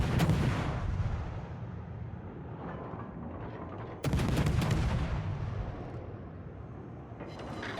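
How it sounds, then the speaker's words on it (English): Naval guns on the Atlanta cruiser in World of Warships fire in booming salvos, one heavy volley at the start and another about four seconds later, each followed by rolling rumble. "We just start shooting at it,"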